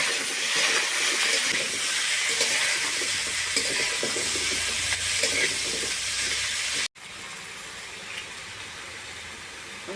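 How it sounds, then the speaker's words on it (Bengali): Potato and pumpkin pieces sizzle loudly in hot oil with garlic, a steady close hiss that drops abruptly to a quieter, continuing fry partway through. "এখন আমি এর মধ্যে আলু আর কুমড়ো দিচ্ছি।"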